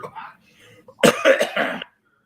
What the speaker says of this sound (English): Hopefully I won't be coughing as much through this.